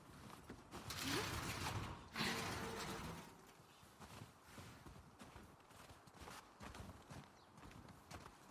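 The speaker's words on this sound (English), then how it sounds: "Oh, a horse named Japan." Horse hooves in the video game The Last of Us Part 2 clip-clop at a steady walking pace, fairly close, with a brief louder burst of movement early on and quieter ambient noise behind.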